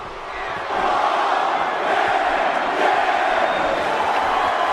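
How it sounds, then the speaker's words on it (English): A large wrestling arena crowd cheering during a televised WWE match, a dense, loud, continuous roar that swells slightly and holds steady without commentary. "Rob Van Dam playing to the crowd."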